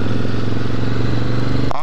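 1994 Suzuki Intruder motorcycle engine idling nearby with a loud, steady low throb and even harmonic pulsing, then cut off abruptly near the end by a short burst of voice.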